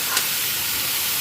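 Bottle gourd pieces hit a hot pan and set off a steady, even sizzling hiss that fills the whole moment, close and unbroken, with no voices.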